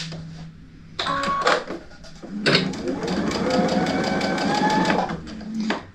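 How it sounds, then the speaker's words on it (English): Sewing machine stitching a disappearing four-patch quilt block, two close runs of fast, even mechanical stitching, a short burst and then a longer steady run, with no speech. "so we're sewing this"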